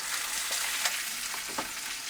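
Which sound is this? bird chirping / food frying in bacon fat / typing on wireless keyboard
food frying in bacon fat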